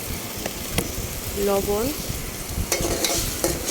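Garlic dropped into oil with onions already fried, a steady sizzle with stirring scrapes and a short tonal clink midway, close and moderately loud, with a brief spoken word over it.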